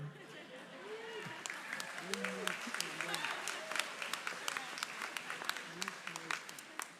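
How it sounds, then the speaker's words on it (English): Light, scattered applause from a commencement audience: sparse separate claps popping over a quiet room while someone talks. "I thought that might get some applause"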